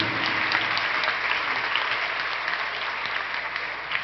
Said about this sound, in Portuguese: Uma salva de palmas ao nosso Deus pela sua vida